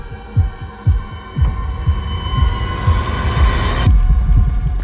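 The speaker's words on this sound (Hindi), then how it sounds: "उसे अपने कानों में अपनी ही धड़कनें सुनाई दे रही थी।" A pounding heartbeat sound effect for a Hindi horror story thuds in deep paired beats that quicken and crowd together over a low humming drone, loud and close, with no voices.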